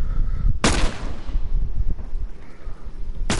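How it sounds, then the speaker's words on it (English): Gunfire in a video game: two loud, sharp broadband blasts, one early and one at the very end, over a constant low rumble and wind-like noise. "I don't even know what they're shooting at."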